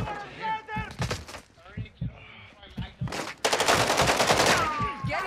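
Rapid automatic gunfire in a video game, starting under scattered speech and then swelling into a loud, sustained burst of fire near the end.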